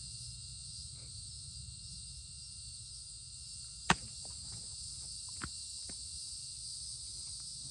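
Outdoor bugs keep up a constant, high insect drone during stone knapping of agatized coral, with a single sharp tap and a few faint clicks breaking through.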